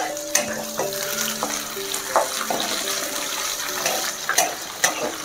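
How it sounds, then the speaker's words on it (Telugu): Onions fry in a pan for a mutton keema balls curry, with a continuous close sizzle. Occasional sharp clinks and scrapes of stirring punctuate the frying. "ఆనియన్స్ ఫ్రై అవుతుంది."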